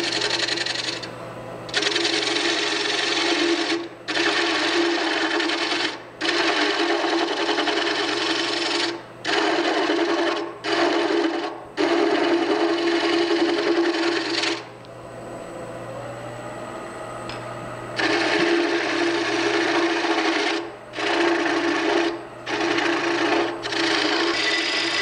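A wood lathe spins an elm bowl at about 700 RPM while a gouge scrapes and cuts in repeated bursts, loud and close, with short pauses between passes.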